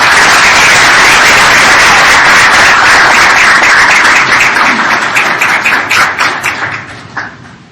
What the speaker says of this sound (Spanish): cedo el uso de la voz a nuestro diputado, no sin antes recibirlo con un fuerte aplauso.